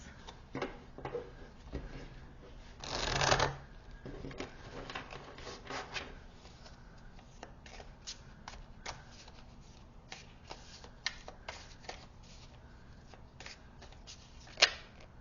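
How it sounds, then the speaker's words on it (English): Tarot cards are shuffled and pulled by hand in a soft, close series of riffles and flicks. One fuller burst of shuffling comes early, followed by scattered light card snaps and taps. "I'm also going to pull some tarot cards just as clarifiers for these."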